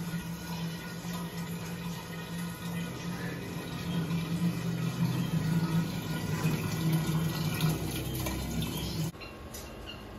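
Water pours into a homemade cooler for birds, a steady, faint, rushing trickle that swells slightly midway and then cuts off abruptly near the end.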